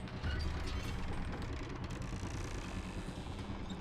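Elevator ride in Call of Juarez: Gunslinger, a steady mechanical rumble with low clanking and rattling gear noise running throughout, loud and continuous with no talk.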